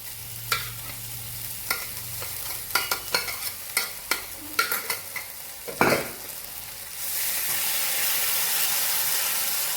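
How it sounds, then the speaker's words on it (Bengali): Spice paste for a rita fish curry being stirred in hot oil: a series of sharp scraping clicks from the spoon against the pan, then a steady, loud sizzle and hiss that carries on alone. "এবারে মশলাটা একটু কষাবো।"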